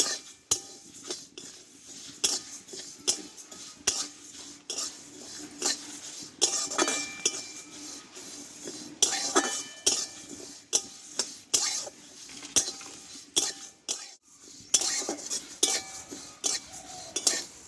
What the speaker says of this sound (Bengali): দেখো শুকনো খোলায় এবার মশলাটা আমি ভেজে নেব